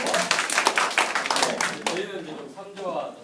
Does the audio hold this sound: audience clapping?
yes